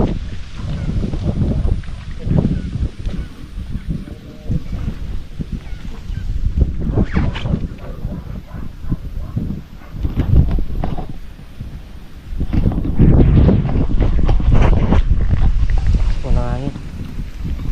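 Strong wind buffets the microphone in a steady roar with gusty surges, while people talk underneath.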